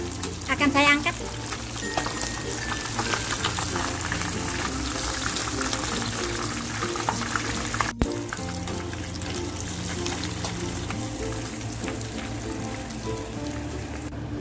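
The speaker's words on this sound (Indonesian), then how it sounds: "ini gorengan yang kedua kalinya, udah kering, akan saya angkat." Tilapia fish deep-fries in hot oil in a wok during its second frying, a dense, steady crackling sizzle with bubbling throughout, close and loud, with a brief clatter near the middle and a voice speaking over it.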